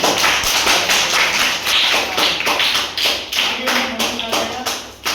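A school crowd at a small Honnalli school function applauds its guest teacher with loud, continuous clapping that swells and pulses in a rough steady rhythm, close and dense.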